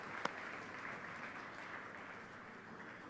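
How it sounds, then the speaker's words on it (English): Audience applause at a large marketing keynote in India, a steady broadband wash of clapping from a big crowd, fairly distant and even throughout with no talk over it. "Let's give them another big round of applause."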